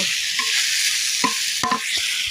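Water lily stems frying for shapla bhaji: a loud, steady sizzle fills the whole stretch, with a few brief spatula scrapes and pan knocks near the end, no voices.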